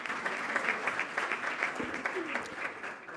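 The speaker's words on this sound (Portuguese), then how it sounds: "Merecidas palmas." Audience applause at an international education congress panel session, a dense steady wash of many hands clapping at moderate distance that holds throughout without a break.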